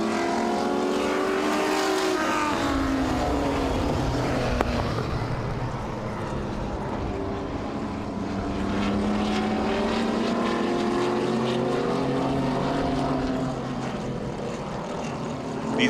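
Vintage modified race cars roar around Owosso Speedway, engines droning steadily loud as the pack circles the oval, pitch rising and falling as cars pass.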